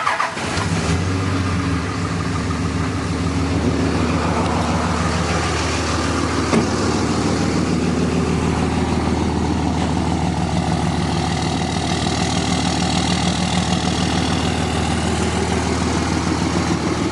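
A 2006 Dodge Ram 3500 Laramie Mega Cab 4x4 with a Cummins turbo diesel and 6-speed idles steadily, a loud, even diesel clatter and rumble running unbroken with no one talking.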